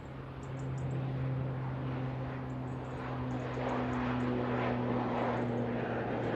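An ATR turboprop airliner passes at Manchester Airport with a sustained propeller drone and steady low tonal hum over a broad rushing roar, moderately loud and without voices.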